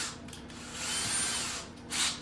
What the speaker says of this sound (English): I drill part way through the front side and part way through the back